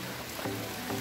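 A small waterfall on a trail to a cave near Karjat, water tumbling down from above with a steady, even rushing hiss, near and continuous, with no talk.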